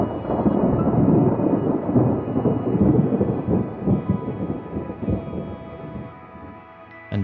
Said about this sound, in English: Thunder is a low frequency sound.